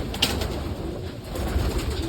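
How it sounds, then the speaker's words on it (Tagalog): Pigeons in a racing pigeon loft give soft, continuous cooing with low murmuring calls, close by amid a faint background hum and no clear speech. "Ito mga kalapatids, so."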